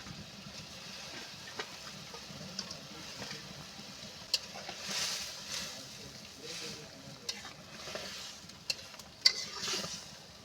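Chickpea fritters simmer in a covered pan of boiling gravy, giving a faint, low bubbling and sizzling hiss with occasional soft clicks and knocks from the pot.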